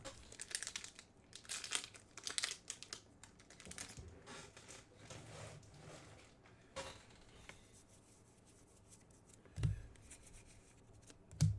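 Firestorm trading card booster packs being torn open by hand, bursts of crinkly foil tearing and rustling with a couple of soft thumps, near and alone.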